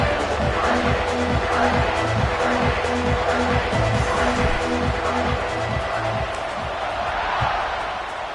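A football stadium crowd roars steadily before kickoff, a dense, loud wash of cheering with rhythmic stomping or clapping pulses beneath it, continuous throughout.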